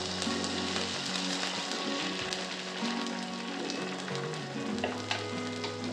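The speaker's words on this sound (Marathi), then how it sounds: "धिरड्याचं पीठ असं आपण चमच्याने थोडं थोडं टाकून घेऊ." Dhirde batter for a fasting recipe is spooned a little at a time into a hot pan and fries with a loud, steady, close sizzle and crackle that runs throughout.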